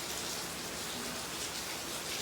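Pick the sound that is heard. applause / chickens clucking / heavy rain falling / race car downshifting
heavy rain falling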